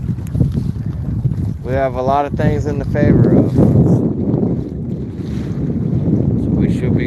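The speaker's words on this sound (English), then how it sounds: "It's a little bit choppy, a little bit windy." Strong wind buffets the microphone out on choppy water during early spring bass fishing, a loud continuous roar while someone talks over it.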